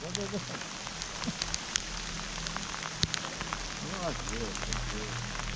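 Rain pattering on a nearby surface with scattered sharper drips, while a voice speaks intermittently over the steady patter.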